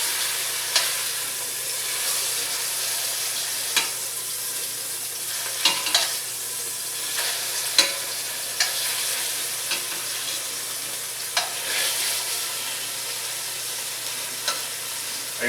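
A chuck roast sears in a pan, its flat sides browning, giving a steady close sizzle with occasional sharp pops and crackles throughout, no voices.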